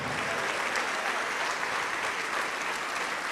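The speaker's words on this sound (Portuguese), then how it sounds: "vamos aplaudir mais, igreja" A church congregation breaks into loud, sustained applause, a thick, steady wash of many hands clapping with no letup throughout.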